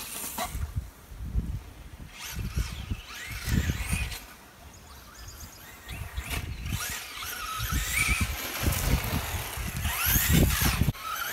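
Traxxas Slash 2wd RC car fitted with a low center of gravity kit driving and turning sharply on a lawn, a buzzing electric motor that surges and fades in repeated bursts, with rustling and whining tones.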